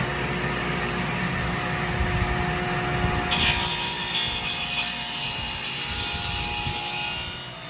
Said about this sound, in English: Now I just gotta get all the 2x4s I need and do dado cuts on all these